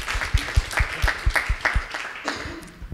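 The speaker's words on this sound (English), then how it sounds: "a big round of applause for them as well" A small community meeting audience gives a round of applause, a few distinct, rhythmic nearby claps at a quick steady pace that soon loosen and fade.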